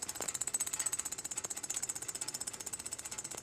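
A fast, even electric buzzing pulse from a small electric fuel pump on a lawn tractor, faint and steady with a rapid mechanical rhythm, no voices.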